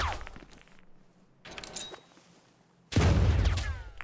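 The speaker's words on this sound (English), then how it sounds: "I can throw many grenades." Grenades going off in the video game Zero Sievert, with a few scattered muffled blasts and debris rattles, then one big, heavy, close explosion that booms and rumbles on.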